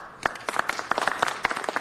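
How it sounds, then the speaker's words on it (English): Scattered hand clapping from a small council meeting audience honoring city staff, a few uneven bursts of claps rather than sustained applause, moderately faint in a room. "Give a big round of applause."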